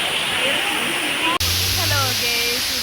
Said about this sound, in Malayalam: അപ്പൊ നമ്മൾ കണ്ടോ വെള്ളച്ചാട്ടം